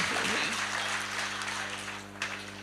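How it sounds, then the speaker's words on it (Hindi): Applause from listeners at a Jain religious discourse, a dense continuous wash of clapping heard over a low sustained hum, with a sharper clap standing out near the end. "आज देखो ये लोग कितनी ताली बजा रहे हैं"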